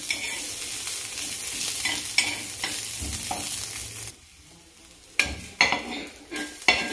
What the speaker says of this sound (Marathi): हा लसूण आता असा तेलामध्ये छान परतून घ्यायचा आहे